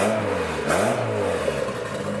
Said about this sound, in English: so it's like all turbo noise right now